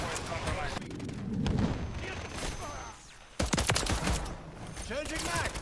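Pistol shots crack in a Call of Duty match, a few sharp bursts cutting through game noise and ambient effects, while a player talks over the action.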